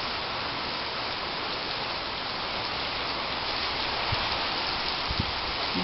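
Steady rain hisses continuously during a January storm in Blumenau, Brazil, a dense even wash of falling water with occasional faint drips.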